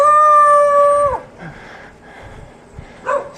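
A dog gives one long, loud, steady howl up front that breaks off after about a second. Fainter whimpers and rustling trail behind it, and a short yelp rises near the end. The scene is on a road trip through Flores.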